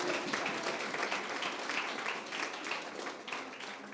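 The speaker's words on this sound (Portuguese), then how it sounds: "Pode aplaudir ao Senhor." A church congregation claps together at a seventh-anniversary service, a dense, fairly steady patter of many hands that holds for several seconds and fades slightly toward the end, with no voice over it.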